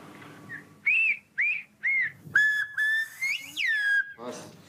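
A series of piercing, modulated whistles in a village's whistled language, short syllable-like bursts then longer gliding tones, mimicking speech patterns.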